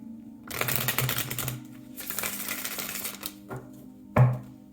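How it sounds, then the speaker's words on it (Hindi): Tarot cards being shuffled by hand: several dry, papery riffling bursts in a row, close and fairly quiet, ending with a short sharp snap of the deck. "शफल कर लेते हैं कार्ड्स को ऑप्शन 3 के लिए"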